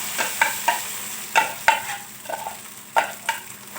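Crushed ginger frying in hot ghee for a ginger and turmeric halwa, with a utensil scraping and tapping the pan in uneven bursts over a low sizzle, close and clear with no voices.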